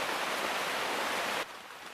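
Rain falling outdoors around a sleeping spot, a soft, steady hiss that drops abruptly to a quieter patter near the end.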